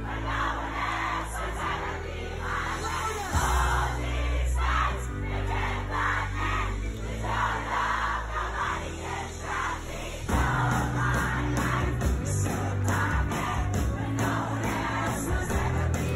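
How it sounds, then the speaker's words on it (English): A concert crowd at a live pop show singing along and cheering, a distant mass of voices over band music with electric guitar, sustained throughout with shifts in intensity, played back through a phone speaker. "The crowd is a little pitchy"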